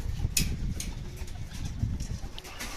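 Racing pigeons coo softly in a loft just after landing, low throaty murmurs close by, with a few light thumps and shuffles among them.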